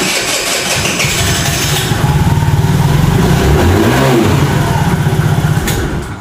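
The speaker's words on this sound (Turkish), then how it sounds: "Ondan sonra motorumuzu marşına basacağız" A 49cc scooter engine bored out to 100cc starts up and settles into a loud, close, steady running chug with a faint rise in pitch, its fast pulsing beat continuing until it cuts off at the end.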